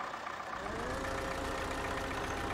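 The diesel engine of a Liebherr 900 with a dozer blade in the Spin Tires driving game runs in a steady mid-pitched drone, close and unbroken, with no talking.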